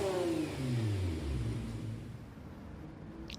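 A race car engine in Gran Turismo Sport revs up hard, its pitch climbing through gear changes before settling into a steadier rumbling drone, loud and close, with no speech.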